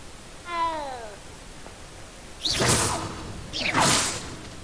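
A cat in the video game Hogwarts Legacy gives a single clear meow near the start, followed by two loud whooshing swishes that sound like spell effects.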